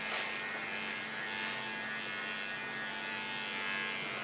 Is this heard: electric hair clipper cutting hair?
yes